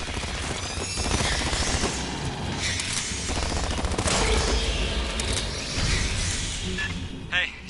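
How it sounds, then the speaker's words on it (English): Gunfire and combat in the sci-fi shooter game Aliens: Fireteam Elite, a dense continuous barrage of rapid shots and mechanical clatter filling the whole stretch, loud and busy, with some game voices mixed in. "I heard gunfire"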